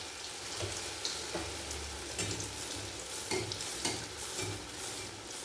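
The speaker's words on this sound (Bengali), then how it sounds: "এরপর উল্টে পাল্টে লাল করে ভেজে নেব।" Biuli dal malpua batter frying in oil in a pan, a steady sizzle and crackle running the whole time with a few sharper spits and pops, close and alone with no talk.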